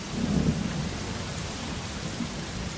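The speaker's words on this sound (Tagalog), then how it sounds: "Uy, umuulan!" Heavy rain hisses steadily while a low rumble of thunder rolls underneath, loudest near the start.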